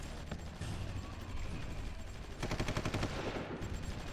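Rapid bursts of gunfire crackle through a battle in a strategy video game, continuous rattling shots with a denser, louder volley near the end, no talking.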